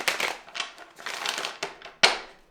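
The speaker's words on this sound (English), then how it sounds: "Just gonna shuffle them once here." Tarot cards riffle and slap together in a few uneven bursts up close, ending with a sharp tap.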